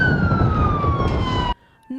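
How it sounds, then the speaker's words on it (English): A police car siren wails loudly and close for about a second and a half, a steady descending tone that cuts off abruptly, followed by a short burst of another sound. "Normally, a police siren is a sound indicating something is wrong."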